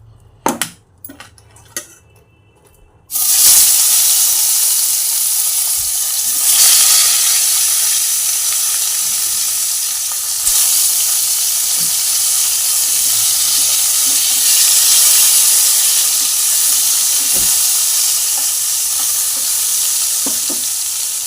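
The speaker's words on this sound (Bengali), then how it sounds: "বেগুনগুলোকেও আমি লাল লাল করে ভেজে তুলে নেব" Eggplant slices fry in hot oil in a wok, a loud, steady sizzle that bursts in after a few seconds of quieter clatter and holds on with occasional spatters and stirring scrapes, with no voices.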